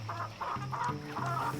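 Chickens on a bokashi-fed small farm cluck in short, rhythmic bursts, close and fairly soft, with no talking.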